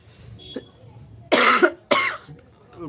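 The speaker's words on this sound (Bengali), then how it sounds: "একটু কাশি হচ্ছে তো আজকে" Two loud, harsh coughs come close together from one person near the microphone, after a faint throaty sound, with a quiet room around them.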